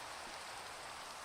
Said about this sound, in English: It definitely sounds like it's raining